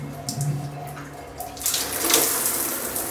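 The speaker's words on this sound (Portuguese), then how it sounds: "deixa eu ver aqui se consertou o chuveiro" A repaired shower runs after being off for two days, water hissing and splashing steadily, growing louder partway through with no talking.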